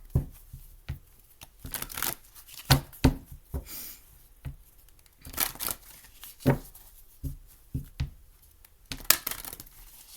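Large tarot cards are shuffled and handled up close, giving irregular crisp bursts of riffling and slapping separated by brief pauses.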